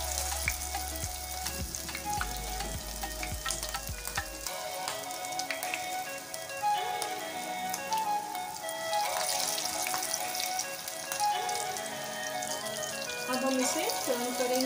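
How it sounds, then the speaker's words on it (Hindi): Mutton chapli kebabs frying in hot oil in a pan, a steady, close crackling sizzle that runs throughout with scattered pops and spits, without any voices. "इसे फ्राई करने के लिए डालेंगे"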